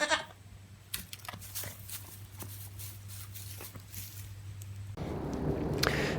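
A young goat whose dehorning failed gives a few short bleats amid soft footsteps and crunching on a farm. A louder burst of rustling comes near the end.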